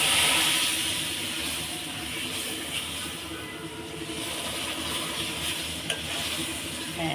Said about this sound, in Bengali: এভাবে পানি দিতে হবে আর নাড়তে হবে, না হলে একদম জমট বেঁধে যাবে।